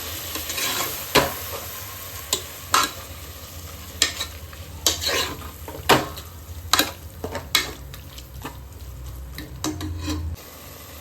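Curd and tomato sauté for chicken biryani in a home kitchen pan, with a steady low sizzle broken by repeated scraping and stirring strokes of a spoon at an irregular rhythm, close and clear, no talk.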